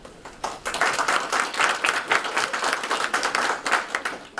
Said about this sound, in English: give your round of applause now